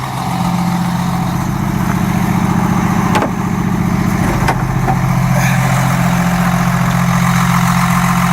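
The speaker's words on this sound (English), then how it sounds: "This is a HINO engine." A HINO 268A medium-duty diesel truck engine idles steadily with a deep, even rumble and a few brief clicks, close by and continuous throughout.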